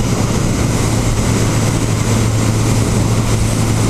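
Steady, loud engine drone from a 1991 Suzuki GSX1100G motorcycle on a ride, running under throttle with a constant low hum and broadband wind rush, no voices.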